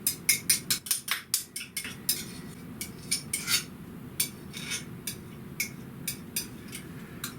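A spoon scrapes and clinks against a bowl while mayonnaise is transferred into a slightly larger mixing bowl, a quick run of sharp taps followed by sparser scrapes and knocks, close and with no talking.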